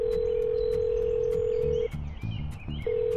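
A steady, loud telephone dial tone on an Indian landline before dialing 1950. The tone breaks off briefly near the end, then resumes.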